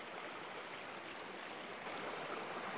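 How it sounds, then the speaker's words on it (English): A mountain stream on the Appalachian Trail near the South Fork Holston River, flowing in a steady, even broadband rush that stays constant throughout with no voices. "and there is a beautiful stream"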